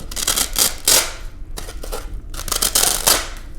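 Styrofoam block being cut at an angle to fit a porch planter urn, a run of rough scraping, squeaky cutting strokes in bursts with short pauses, close and fairly loud, no talking.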